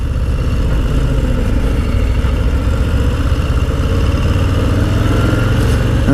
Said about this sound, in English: I like the engine braking